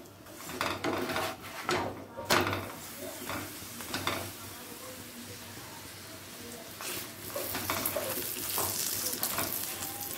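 An aloo paratha roasts on a hot tawa over a gas flame, giving a soft, even sizzle broken by a few sharp scraping and pressing knocks, with no talk.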